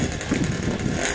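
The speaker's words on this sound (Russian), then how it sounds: "Движочек еще холодный, только завели." A Karpaty moped's small engine idles with a steady, buzzing putter, freshly started and still cold, close by and running alone without any voices.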